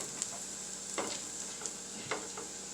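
Food browning in oil in a pan on a medium-low burner, a steady soft sizzle with a few brief stirring clicks and pops, close and alone with no talking.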